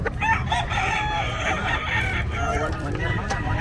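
Fighting roosters at a pet market in Bocaue crow and cluck close by, several birds calling over one another in a dense, continuous din with faint market chatter underneath.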